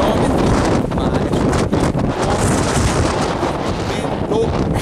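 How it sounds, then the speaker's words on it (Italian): Strong wind buffets an outdoor microphone along the coastal path from Ocean Beach toward the Golden Gate Bridge in San Francisco, a loud, continuous roaring rumble with gusty swells and no pauses. "vento, oggi c'è vento, però si sente"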